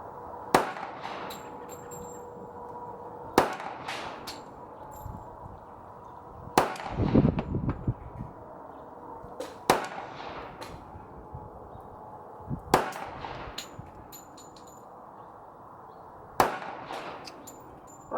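A CZ Shadow 2 or Ruger SR1911 pistol fired at an outdoor range, single sharp shots spaced about three seconds apart, each followed by a short echoing tail.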